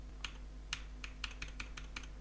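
Computer keyboard keys tapped in a quick, uneven sequence, crisp clicks close to the microphone over a steady low hum, with no talking.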